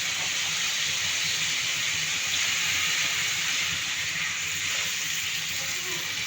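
A pot of hilsa fish and gourd curry simmers after broth is added, producing a loud, steady hiss and bubbling sizzle close by without a break.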